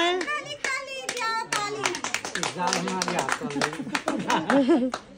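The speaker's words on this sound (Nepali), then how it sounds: "ताली रे लौ न ताली" A few people clapping hands in a lively household gathering, scattered claps mixed with loud overlapping chatter and laughter close by.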